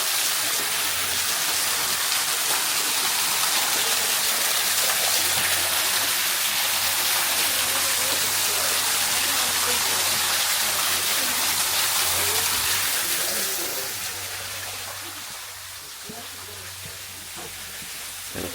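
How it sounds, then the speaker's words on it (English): A water feature in Portugal gushes in a loud, continuous rushing wash that holds steady for most of the time, then eases a little toward the end. "Now we're back at this water feature we saw earlier here."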